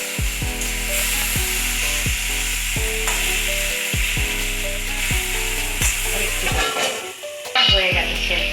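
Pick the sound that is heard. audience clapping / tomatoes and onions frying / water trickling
tomatoes and onions frying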